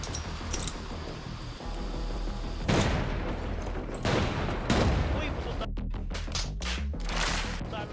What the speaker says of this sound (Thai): ระเบิดระเบิดระเบิดระเบิดเข้าไป